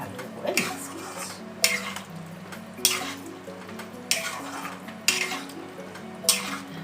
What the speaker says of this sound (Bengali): এবার এটাকেও পুরো জিনিসটার সাথে ভালো করে মিক্স করছি